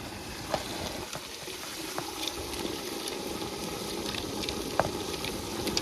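Ginger paste and garlic dropped into thick sizzling gravy for dal dhokli, a steady close frying hiss with a few soft clicks of a spoon against the pan, no talking.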